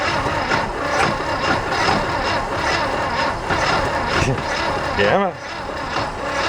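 A 1969 VW Fastback engine that has sat for 19 years cranks on the starter in a rough, uneven churn without catching, loud and close, with a brief spoken word near the end.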